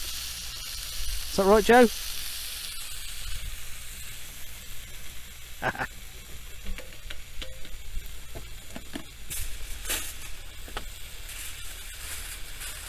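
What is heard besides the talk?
vegetables frying in pan in motorhome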